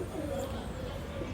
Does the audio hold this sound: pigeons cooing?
yes